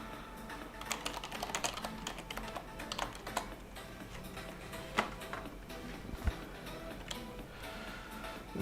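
Rapid, uneven clatter of typing on a computer keyboard, steady and close throughout with a few sharper keystrokes standing out.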